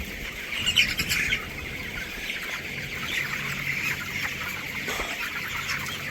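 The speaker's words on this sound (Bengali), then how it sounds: "এগুলো সবই মোরগ।" A shed full of day-19 broiler cockerels, with a few hens mixed in, gives a steady chorus of clucks and chirps, with louder calls near the start above a constant low background hum.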